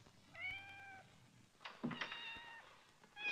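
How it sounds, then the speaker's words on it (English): A cat meows several times, its drawn-out cries rising and falling, with a couple of louder, harsher yowls toward the middle and a fresh cry starting at the end, set in a quiet indoor room. "Still, I hate to hear a cat cry."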